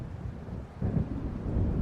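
Thunder from an approaching storm in the video game Alan Wake rumbles low and deep, swelling louder partway through over a wash of wind and rain noise, with no voices.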